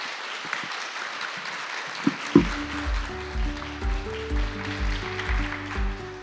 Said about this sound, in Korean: 네, 그럼 박수로 좀.